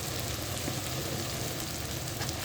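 Salt, chili powder and turmeric sautéing in a pan for senai kilangu varuval give off a steady, even sizzle with no talking over it.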